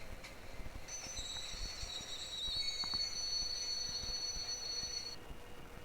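Brakes are applied on a train in the Train Simulator Bangladesh game, giving high metallic squeals over a low rolling rumble with faint clicks, steady and moderately close.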